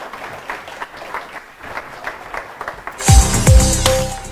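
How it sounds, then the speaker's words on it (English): Applause rises from the audience at a tech accelerator launch event in Kenya, scattered clapping that swells louder toward the end as a musical sting cuts in. "A big round of applause to every one of you."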